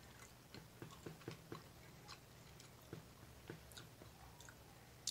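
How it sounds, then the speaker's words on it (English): Someone chews smokehouse beef jerky close to the mic: faint, irregular moist bites and squishing, with no talking. "And then let's see how it chews and tastes."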